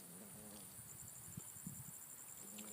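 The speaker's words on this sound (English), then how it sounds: "And there's our friend the bumblebee." A bumblebee buzzes around a tomatillo plant in a vegetable garden, giving a faint, steady hum in the background along with a few soft rustles and brief low thumps.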